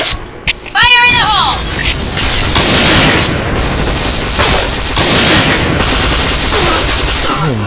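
Point Blank video game combat: a grenade blast and bursts of gunfire crash loudly over chaotic in-game effects, with a dense, continuous barrage of booms and shots and a voice mixed in.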